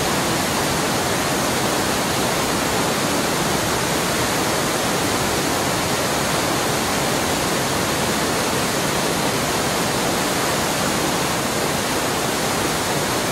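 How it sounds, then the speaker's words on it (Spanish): Sparkling, swirling mountain water in the Vall de Boí, Spain rushes in a steady, loud, unbroken wash with no pauses or variation, like a nearby stream or cascade. "Y agua. Centelleante, arremolinada y refrescante."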